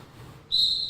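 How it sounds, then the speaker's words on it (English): A single sharp, shrill roller derby jam-starting whistle blast cuts in halfway through and holds, loud and piercing over a quiet room background. "They'll be given a 5-second warning, followed by a starting jam whistle."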